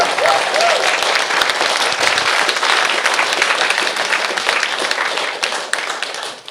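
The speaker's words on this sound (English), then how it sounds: "That's one more round of applause." A live audience at the Expose 2024 event gives a loud, sustained round of applause, dense clapping that carries through the whole stretch and fades a little at the end.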